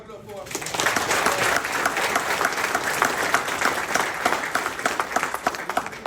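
Loud, sustained applause from a football team gathered in a team meeting, many hands clapping in a dense rapid patter that swells up after a brief start and holds steady, with crowd voices mixed underneath.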